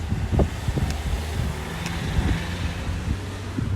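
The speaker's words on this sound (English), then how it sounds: "it is windy as fuck." Strong wind roars and buffets steadily across an outdoor microphone during a strong wind warning, with low rumbling gusts and no speech.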